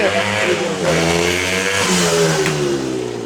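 A 125cc motorcycle engine revs hard and close, its pitch climbing and dropping through several rapid gear changes, loud and continuous.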